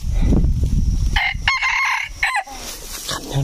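Jungle fowl rooster crowing close by, one loud drawn-out call rising and breaking into several strained syllables, over rustling background noise.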